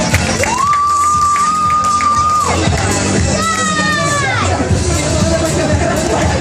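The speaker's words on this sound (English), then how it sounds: "give a round of applause" A crowd cheers, shouts and whoops at a Russ Swift precision driving show at the Manila International Auto Show, with a loud steady roar of voices and two rising whistle-like tones cutting through.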